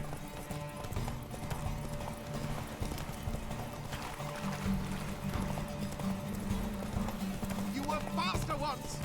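Roach, Geralt's horse in The Witcher 3, gallops with steady rhythmic hoofbeats throughout, and a whinny breaks out near the end while game dialogue and background music play over the hooves.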